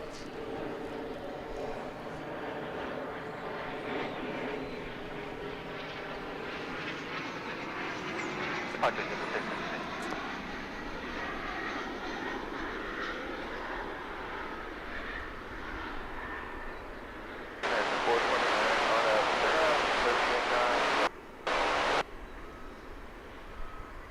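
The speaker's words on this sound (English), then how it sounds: "from Amarillo, Texas, a CRJ 900LR, operated by Mesa Airlines, after a 46-minute flight" A Mesa Airlines CRJ 900LR regional jet arriving at DFW Airport from Amarillo, Texas, its engines roaring steadily and sweeping in pitch as it passes, with a narrator talking over it and a louder hiss near the end.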